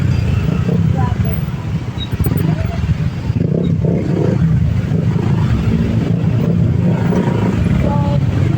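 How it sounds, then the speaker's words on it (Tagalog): Heavy road traffic in Kaba, Rosario, with a loud, continuous rumble of engines and motorcycles close by, dense and steady throughout, with occasional higher tones above the drone. "ipapakita ko sa inyo kung gaano ka-traffic sa Kaba, Rosario"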